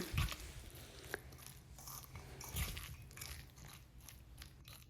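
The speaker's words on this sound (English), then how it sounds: "Mix everything together until they're well incorporated." Chive pancake batter stirred in a bowl, giving soft, wet squelching and light crunchy scraping in an uneven rhythm, close and quiet.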